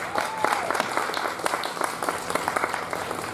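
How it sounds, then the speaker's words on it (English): A crowd applauds steadily, many hands clapping together in a dense, even wash of sound. "So give them all one more round of applause."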